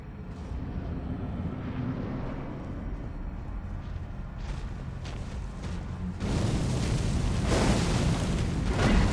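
A fire attack in Elden Ring erupts with a loud roaring whoosh of flames after a quieter stretch of low ambient rumble and small clanks, the burst swelling and holding to the end.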